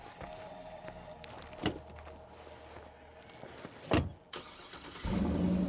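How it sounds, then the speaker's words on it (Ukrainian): A car being parked in the video game State of Decay 2, with a low engine hum, a couple of sharp clunks like a door, and a louder engine surge at the end; no talking. "Машину ближче припаркую, щоб я не їздив"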